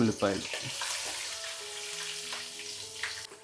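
Star anise, marathi moggu and other spices fry in oil in a pan for a chicken curry, giving a soft, steady sizzle at low volume with faint tonal sounds behind it.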